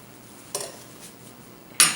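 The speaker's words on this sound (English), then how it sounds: "Now I'm mixing some browns for his wing" A brush dabs and scrubs brown watercolor paint across a palette: two brief scraping clicks, close and fairly quiet, with the second sharper than the first.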